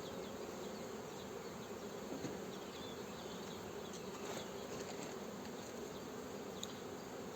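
Steady, dense buzzing of many honeybees close by in an open hive with the upper box lifted off, a continuous droning hum with no voices.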